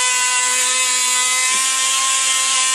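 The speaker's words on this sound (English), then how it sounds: "So what I'm going to do is just sand it." A power sander works over a wooden hull, a steady, loud, unbroken high-pitched whir with a brief dip midway, no talking.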